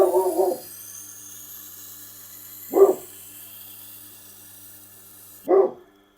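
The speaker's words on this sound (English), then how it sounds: "He's got a big old bark, hasn't he?" A large dog gives three separate deep barks spaced a few seconds apart, clear and fairly close against a quiet steady background hum, with no speech.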